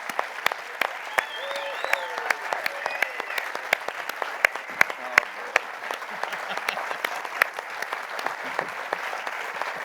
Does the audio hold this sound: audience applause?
yes